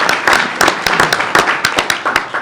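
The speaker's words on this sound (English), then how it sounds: "Let's give her a round of applause for that." A small audience at a board meeting gives a round of applause, a steady, fairly loud patter of scattered hand claps with no talking.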